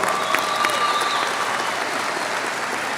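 Audience at a high school graduation ceremony applauds the JROTC, dense sustained clapping from a large crowd that fills the hall at a steady loud level throughout.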